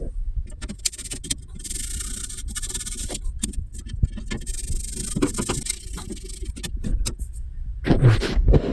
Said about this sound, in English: I am going to unscrew these to get access to the pilot so that I can clean it